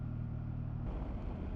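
The engine of a 2024 BMW F900 GS motorcycle rumbles with a low, steady drone, shifting to a rougher, heavier note as the throttle opens. A faint snatch of riding noise comes with it.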